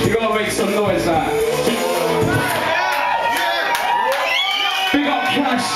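A loud crowd at an Eid car show cheering and shouting with scattered whoops and some clapping, a dense, continuous roar of many voices throughout.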